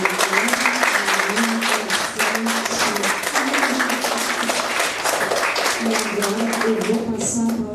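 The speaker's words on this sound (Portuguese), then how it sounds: "Vamos aplaudir" An audience at a literary event bursts into steady, dense applause that keeps up for several seconds without a break, with a voice heard faintly underneath.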